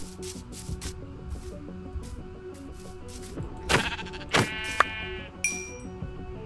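Sheep bleat several times in a Ludic video game, wavering calls over a light patter of clicks and soft background tones.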